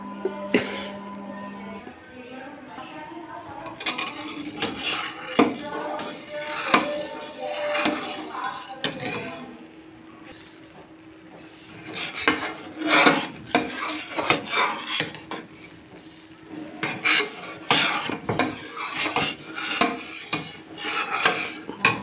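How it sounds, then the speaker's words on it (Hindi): Firni, a rice pudding, stirred in a pot over low heat, giving repeated scraping and clinking strokes of a spoon against the metal in uneven bursts with brief pauses. "उसके बाद आंच आहिस्ता कर दें और इसको मिक्स करते रहें।"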